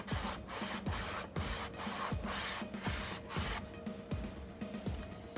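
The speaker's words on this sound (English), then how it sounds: "I just have an old rag here, and I'm just going to wipe off any excess that's just sitting on" An old rag wiping excess finish off the surface of a homemade decorative tray, with rhythmic back-and-forth rubbing strokes repeating steadily, close and soft, with no voices.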